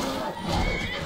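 A horse whinnies in the Skyrim video game, one short and fairly loud neigh lasting about a second, with hoofbeats mixed in.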